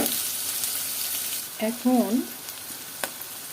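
Chilies frying in oil in a pan give a steady close sizzle, with a brief stirring scrape partway through and no voices.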